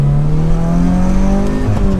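A turbocharged Subaru BRZ pulls hard from first gear, its engine note rising steadily in pitch under load, loud and close from inside the car with no talking.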